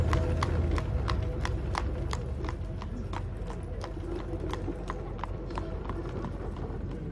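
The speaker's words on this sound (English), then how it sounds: "Our young folks, when they get 16, we get them a horse and a buggy," A horse's hooves clip-clop in a steady, brisk rhythm as it pulls an Amish buggy along a road, the evenly spaced strikes heard at moderate distance over a constant rumbling background.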